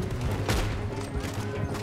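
Rapid overlapping gunfire from a Red Dead Redemption 2 shootout during a stagecoach chase, a dense volley of loud cracks over rumbling game background with faint voices.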